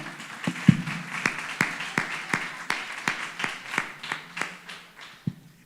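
A church congregation claps together in steady rhythmic unison, roughly a dozen sharp hand claps spaced evenly across the stretch, moderately loud and clear in a room, with no talking over it.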